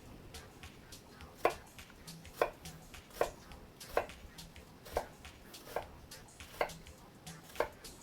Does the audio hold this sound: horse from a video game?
no